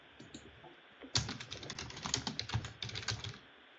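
Typing on a computer keyboard, a quick run of close, crisp key clicks lasting a couple of seconds over a faint background hum, with no talk.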